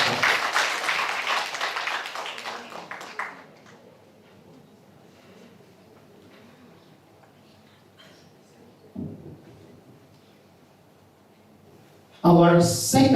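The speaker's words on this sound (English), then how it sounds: "Please give her a round of applause." Audience applause greeting a guest speaker at an international lecture, a dense burst of clapping that fades out after a few seconds, followed by a quiet room and a fresh round of clapping at the very end.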